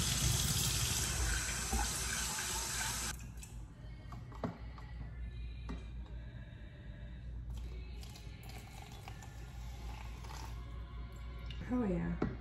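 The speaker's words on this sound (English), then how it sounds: "I'm just gonna put hot water in it." Hot water pours from a kettle into a cup to make coffee without a coffee maker. A loud, rushing pour opens the clip and then cuts off, leaving quieter kitchen clinks and handling, with a brief trickle near the end.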